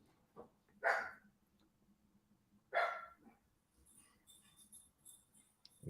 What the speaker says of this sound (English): my dog is barking at someone